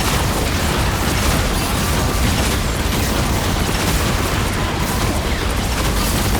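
Rockets fire and explode in the Marvel Rivals video game, a dense, loud wash of blasts and rumbling booms with no clear gaps between them.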